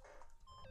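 Electronic beeping from the video game Danganronpa: Trigger Happy Havoc, a short burst of steady synthetic tones held over a busy game background.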